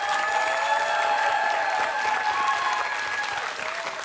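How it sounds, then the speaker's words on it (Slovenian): Loud, sustained applause from a school competition crowd in the stands, steady and dense for several seconds with a faint cheer now and then mixed in. "Tudi Velenjčani pa z borbo do konca so si prislužili glasen aplavz."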